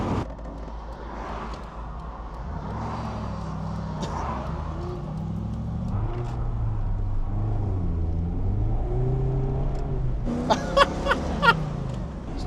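A candy apple red Triumph Stag with a V8 engine accelerates, its deep engine note rumbling and rising steadily from inside the car, with a few sharp clicks or knocks near the end.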